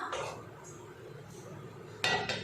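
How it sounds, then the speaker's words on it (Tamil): An old dosa griddle set down on a stove beneath a chicken dum biryani pot, with soft metallic clinks and a sharper clank near the end, close and fairly faint. "தம் போடுறதுக்கு ஒரு பழைய தோசைக்கல்லை அடியில் வச்சிடலாம்"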